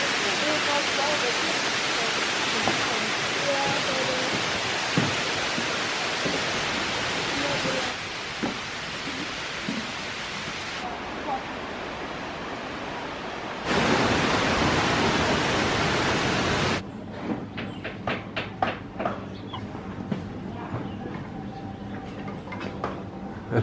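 Kuang Si waterfall in Laos pours with a loud, steady broadband rush that shifts in level across several cuts, with faint voices and clatter in the final stretch.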